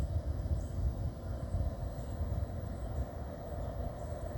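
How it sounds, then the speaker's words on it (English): A locomotive approaches in dynamic braking rather than pulling, a faint, steady low rumble from a distant train with no distinct beats. "I hear him. He's not too loud, so it must be a small train or it's going very slow."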